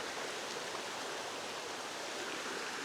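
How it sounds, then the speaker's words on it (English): Stream water flows steadily at a campground in Chichester State Forest, New South Wales, a soft, even rushing wash with no voices. "Nice flowing water."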